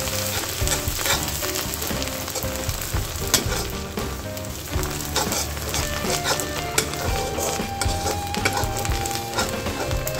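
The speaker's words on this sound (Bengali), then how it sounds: "এখন এই অবস্থায় শুটকিগুলি কেটে রেখেছিলাম, ওটা তাহলে ভেজে নিব পেঁয়াজের সাথে" Cut dried fish frying with onions in a pan, a steady close sizzle with crackling bursts and faint stirring running throughout, no talk.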